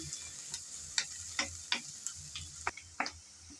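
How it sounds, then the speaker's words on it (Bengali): Chopped onions frying in hot oil are stirred in a pan, a soft continuous sizzle broken by a series of sharp spoon scrapes and taps, close and fairly quiet, with no voices. "তেল গরম হয়ে যাওয়ার পর দিয়ে দিলাম কিছুটা পরিমাণ পেঁয়াজ কুচি হালকা করে নেড়ে চেড়ে নিলাম"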